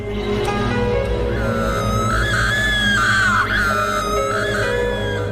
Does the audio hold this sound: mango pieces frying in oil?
no